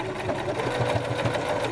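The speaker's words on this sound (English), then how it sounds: "I'm going to reverse stitch" A sewing machine reverse stitching the end of a fabric apron strap, a close, rapid mechanical whirring with a quick rhythmic pulse, running steadily.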